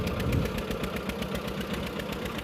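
A tractor pulling a field leveller in a farm field chugs steadily nearby with a rhythmic knocking pulse and constant rumble, no voices.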